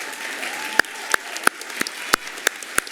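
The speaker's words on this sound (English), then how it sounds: "applaud them for their great achievements" A small audience at a college top achievers awards ceremony applauds the winners, sparse clapping with several sharp, close claps standing out over a softer background patter.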